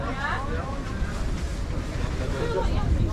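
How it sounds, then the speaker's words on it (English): Gusty wind rumbles across the microphone outdoors in a city on a windy, rainy morning, steady and fairly loud throughout. "it's quite windy and rainy"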